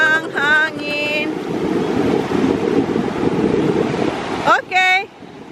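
Gusty wind buffets the microphone with a rough, blustery roar, bracketed by short bursts of a voice at the start and end.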